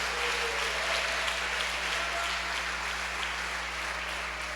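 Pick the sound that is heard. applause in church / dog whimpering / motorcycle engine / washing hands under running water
applause in church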